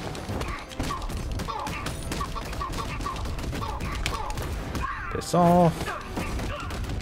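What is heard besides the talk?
enemy gunfire in Batman Arkham Knight video game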